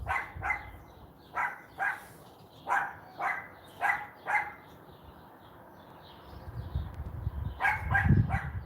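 A dog barks repeatedly indoors, about nine sharp, evenly spaced barks in a steady rhythm, followed by a pause and a low rumbling before two more quick barks at the end.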